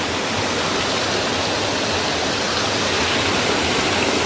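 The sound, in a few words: village waterfall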